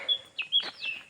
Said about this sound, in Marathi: गावाला आला की आपल्याला अशाच पक्ष्यांचा आवाज येत असतो